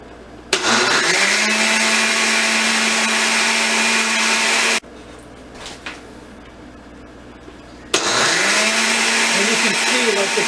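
A countertop blender runs loudly on a smoothie setting, whirring a tres leches cake and cherry mixture. Its motor spins up, roars steadily, stops for a few seconds, then starts again. Faint sounds fill the short gap.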